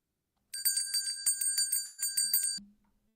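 A small bell is rung rapidly and repeatedly for about two seconds, a bright metallic jingling of many quick strikes, close and fairly loud, then it stops with a brief soft thump.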